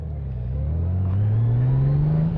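Generation 6 Honda Goldwing motorcycle engine under way, a loud steady low drone rising gradually in pitch as it accelerates, heard close and alone without voices.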